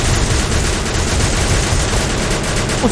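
Sustained automatic gunfire in Free Fire zombie mode, a mobile shooter game, rattling loud and dense without pause across the whole stretch.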